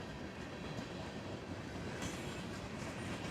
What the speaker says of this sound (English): I'll put the train on just to try it